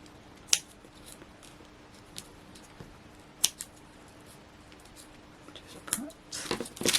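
Scissors snipping paper craft strips a few times, sharp isolated cuts spaced apart in a quiet room, ending in a flurry of rustling and handling.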